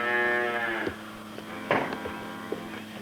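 A low, drawn-out moo from dairy cows opens the clip, followed by scattered knocks and shuffling in a reverberant barn by the milking parlour.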